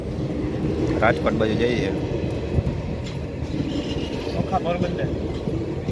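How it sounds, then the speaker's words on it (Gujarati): A train rumbles past a closed railway crossing near Virpur, a continuous heavy roar of wheels and carriages heard close by while people talk over it. "જો ટ્રેન આવી ગઈ છે ફાટક બંધ છે"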